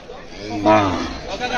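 A single low cow moo swells up close amid a bustling crowd at a cattle market before Eid al-Adha, with chatter around it.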